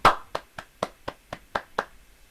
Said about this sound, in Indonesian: Mari kita berikan aplaus kepada kelompok 1.